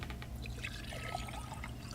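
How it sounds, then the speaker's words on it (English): Liquid poured from a bottle in the point-and-click game The Last Door, a faint, continuous trickling pour over a low hum, with no talk. "Pour the contents of the bottle into the incansier."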